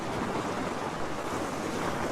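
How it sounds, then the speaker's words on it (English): Ocean waves crash over rocks on the coast at Currumbin, Queensland, Australia, a loud, continuous roar of surf and whitewash with some wind buffeting, heard up close with no talking. "Yeah, that one has it crashes on the rocks."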